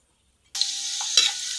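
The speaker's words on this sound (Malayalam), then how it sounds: "നമുക്ക് സബോള വാട്ടാം." Onions sautéing in hot oil for a chicken curry: after half a second of silence a loud, steady sizzle bursts in and holds, with a brief stirring scrape partway through.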